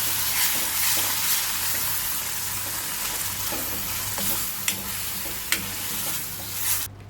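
Masala and ground coconut-onion paste frying over low heat in a pan, giving a steady close sizzle with soft stirring scrapes and a few sharp clinks of the spoon against the pan.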